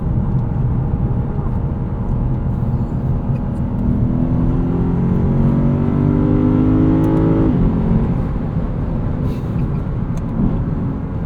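2023 Lexus IS 500 F Sport V8 accelerating from inside the cabin, a steady engine drone climbing in pitch through the revs before dropping off, with constant road and wind noise underneath.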